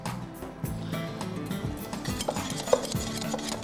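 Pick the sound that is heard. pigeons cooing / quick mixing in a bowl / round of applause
quick mixing in a bowl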